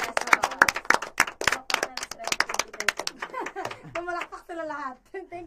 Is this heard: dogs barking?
no